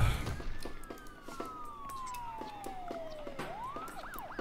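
A wailing ambulance siren from the city-building game Sim City 5 sweeps slowly downward, then rises into a rapid warble. Faint ticking and a low city hum play underneath at moderate volume.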